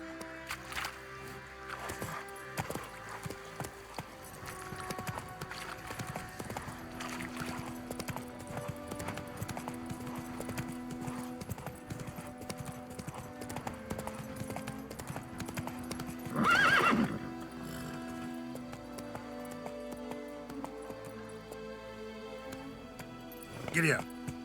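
A horse gallops in The Witcher III: Wild Hunt, its hooves thudding in a steady, fast rhythm for a long stretch beneath in-game speech, with a loud whinny near the end.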